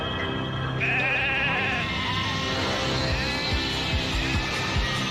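Sheep bleat in the Kirby: Right Back at Ya! cartoon, with a wavering, nasal bleat rising clearly above a busy bed of cartoon music and effects.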